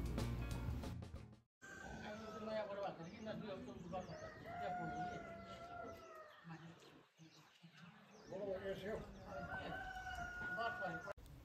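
In the morning at a hill village homestay in Takdah near Darjeeling, a rooster crows repeatedly, with several long crows and some clucking. The sound is faint and somewhat distant, and a voice talks now and then.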